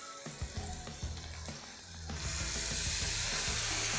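Tomatoes go into a pan of sautéing garlic and onion with turmeric and salt for a South Indian garlic curry. Stirring clatters at first, then a loud, bright sizzle surges up and holds steady.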